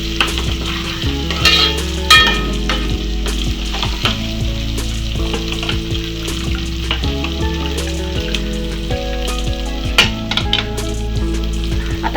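A Marathi dahi kadhi mixture is stir-fried in oil, giving a loud continuous sizzle with repeated stirring scrapes throughout. A low hum and steady tonal noise run under it.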